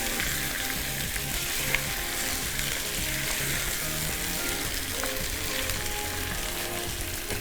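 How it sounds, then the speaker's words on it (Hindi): Chicken and onions frying in a pan, a continuous close, even sizzle with a couple of faint clicks and no talking. "ये चिकन का जो पिंक सा कलर है इसको हमने अच्छी तरह से फ्राई करके चेंज कर"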